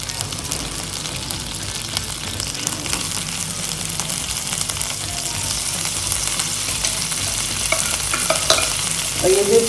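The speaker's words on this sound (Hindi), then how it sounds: "अब मैंने हल्का सा ग्रिल पैन में शैलो फ्राई करूँगी" Marinated chicken skewers shallow-fry loudly in a hot grill pan, a dense, constant sizzle that builds slightly toward the end, with a few faint scrapes and clinks near the close.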